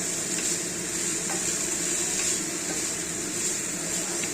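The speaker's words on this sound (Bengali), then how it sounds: "এবার এটাকে গ্যাস বাড়িয়ে নাড়াচাড়া করব এটাকে ভাজা ভাজা করতে হবে" Drumstick flowers frying and being stirred in a pan over raised heat, giving a steady, close sizzle with a bright hiss throughout and faint scraping of the stirring.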